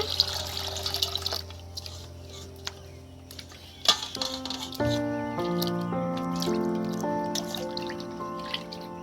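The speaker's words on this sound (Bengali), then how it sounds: "বন্ধুরা এবার কলের জলে ধুয়ে নেওয়া হবে মাছগুলোকে" Tap water splashes and drips while fish are washed under a kitchen faucet, first in scattered light drips, then settling into a steadier running stream with a faint tonal hum in the background.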